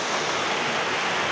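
Heavy rain pours down in a dense, steady roar of broadband hiss, loud and unbroken throughout with no voices.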